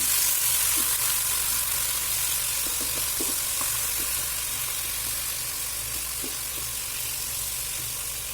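Chicken wings for caldereta fry in a pan with a loud, steady hiss and sizzle, constant and close, with a few faint knocks underneath.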